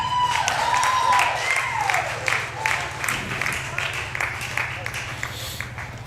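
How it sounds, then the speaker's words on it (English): A crowd applauds in the main arena of a cattle show after a futurity run, a steady wash of clapping running beneath nearby conversation. "You hear all that clapping that's in the main arena?"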